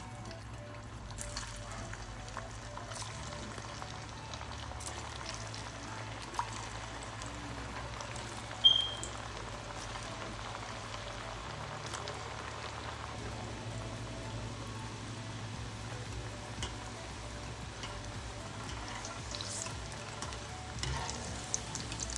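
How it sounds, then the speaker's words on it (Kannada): Shaped potato bites deep-frying in hot oil, a steady, quiet, continuous sizzle with no pause and no talking. "ಕಾದ್ಮೇಲೆ ಶೇಪ್ ಮಾಡಿರೋ ಪೊಟ್ಯಾಟೋಸ್ನ ಫ್ರೈ ಮಾಡ್ತಾ ಇದ್ದೀನಿ"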